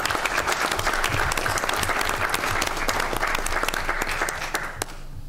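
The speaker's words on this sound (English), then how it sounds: "Let's give them a round of applause." Sustained applause from an audience honoring valedictorians and salutatorians at a school board budget meeting, a dense steady clapping for about five seconds that thins out at the end.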